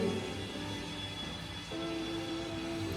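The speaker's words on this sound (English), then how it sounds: "Some construction noise." Construction in a new residential community in Dubai makes a steady low mechanical rumble with a droning hum, shifting to a louder, more tonal grind partway through, like machinery working nearby.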